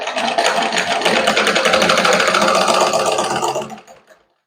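A sewing machine stitches the neck of a blouse in one continuous, loud, rapid mechanical whir with dense needle ticking, close by, running about four seconds before winding down to silence.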